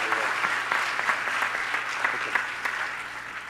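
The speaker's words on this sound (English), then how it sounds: "Let's have a round of applause for Gora." A round of applause at a spiritual retreat for a performer taking the mic, a crowd clapping steadily with crisp individual claps standing out, moderately loud and continuous throughout.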